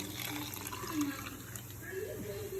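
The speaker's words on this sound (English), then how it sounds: "I'm gonna put some water in here just to empty out the tomato" Water is poured into a cooking pan that holds tomato while Mexican rice is made, a soft, steady trickling splash heard quietly under someone talking.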